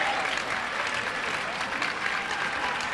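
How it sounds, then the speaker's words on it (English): A crowd at a high school basketball game between La Salle College High School and St. Joseph's Prep cheers and applauds after a three-pointer, loud and steady throughout. "The crowd loves that momentum changer."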